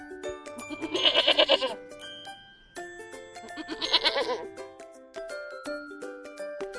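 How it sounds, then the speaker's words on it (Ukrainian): Goats bleat in two wavering bursts over a busy background of chiming, tinkling music, fairly close and moderately loud. "Кози мекають."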